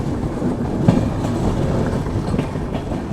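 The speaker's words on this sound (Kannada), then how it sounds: "ನಮ್ಮ ರಾಣಿ ಚೆನ್ನಮ್ಮ ಎಕ್ಸ್ಪ್ರೆಸ್ ಈಗ ಎಂಟ್ರ್ ಆಗೈತೆ ಖಾನಾಪುರಕ್ಕೂ" The Rani Chennamma Express rolls on the rails as it enters Khanapur, heard from inside a first AC coupe: a steady, loud rumble of wheels with faint clickety-clack beats and no voices.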